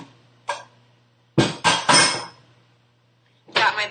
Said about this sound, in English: Got my big old skillet